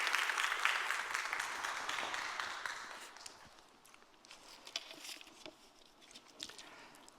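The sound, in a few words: congregation applauding to welcome the pastor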